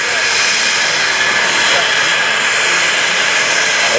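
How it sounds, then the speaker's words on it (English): F-16CJ Fighting Falcon fighter jet passing show center at an air national guard airshow, a steady loud broadband jet roar filling the whole stretch. "Captain Baker, he's coming back to show center here in a few seconds in the F-16"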